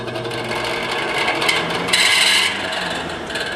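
A vintage Eskimo 12-inch box fan, model 121050, running steadily with a slight rattle from needing oil, producing a continuous close whirring hum with a brief louder scraping surge partway through.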